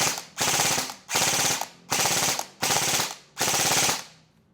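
An airsoft rifle fires five separate full-auto bursts, each a rapid mechanical rattle lasting about half a second with short gaps between them, close and loud with no voices.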